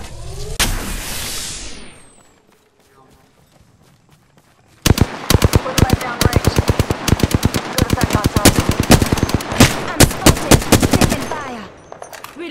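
Close, loud automatic gunfire in the battle royale game Apex Legends: after a sharp burst and a quiet lull, long rapid strings of shots crack in quick succession for several seconds.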